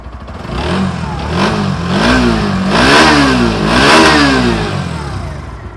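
A 125cc motorcycle engine with an underbelly exhaust revs up and down repeatedly, loud and close, its pitch rising and falling in steady swells over a low idle.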